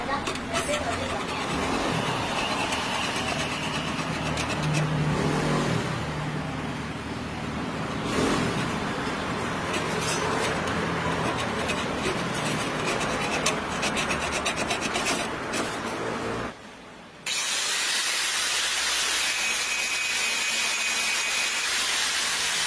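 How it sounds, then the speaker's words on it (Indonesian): A hand saw rasps back and forth through the seal of a shock absorber, a steady gritty scraping that runs loud and close for most of the stretch, briefly dropping away before resuming. "Caranya kita gunakan gergaji saja ya."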